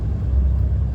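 A heavy lorry pulling a trailer rumbles as it joins a motorway, a steady, loud low engine and road drone heard from inside the cab with no talking.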